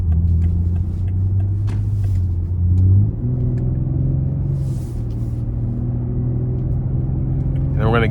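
A 2018 BMW X3 M40i SUV in Sport Plus mode pulls onto the interstate, its engine a loud, steady low rumble that climbs in pitch through a gear change, heard from inside with a voice over it.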